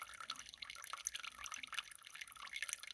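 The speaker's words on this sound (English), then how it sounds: "let the water drain out to this height" Water trickles and drips from a small drain hole in a living-room radiator into a jug, a faint, steady close-up dribble with scattered drip sounds and no talking.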